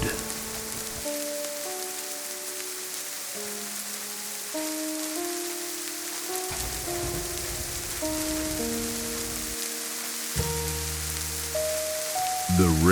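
Steady rain falls on a surface on a rainy night, a constant soft hiss lasting throughout, with low sustained musical tones playing beneath it.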